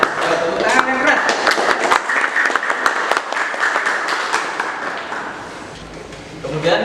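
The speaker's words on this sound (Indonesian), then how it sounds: "Tepuk tangan yang keras." A crowd claps loudly and steadily for several seconds, the applause gradually thinning toward the end.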